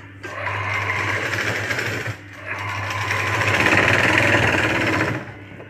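A sewing machine runs loud and close while stitching a tuck on a blouse, in two continuous whirring runs separated by a brief pause, with a steady mechanical hum throughout.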